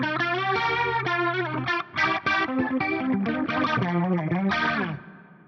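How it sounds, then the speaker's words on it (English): Axe-Fx III rotary speaker effect on a Marshall-style distorted electric guitar, chords and riffs swirling with a warbling chorus-like motion, loud and continuous with no talk. "I do like a good old rotary speaker from time to time"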